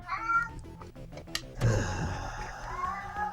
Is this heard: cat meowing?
yes